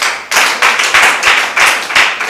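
Church congregation clapping together in rhythm to acclaim God during a sermon, a dense burst of many hands beating in steady pulses roughly three per second, loud and near, with no talk over it.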